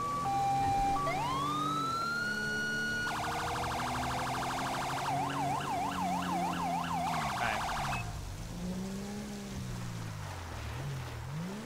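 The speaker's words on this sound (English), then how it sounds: "We're just gonna head with that siren on till we get off the highway here." A police Crown Victoria state trooper car's siren in GTA V wails and then switches to rapid yelping and warbling tones, loud and continuous over the low hum of the engine on a highway.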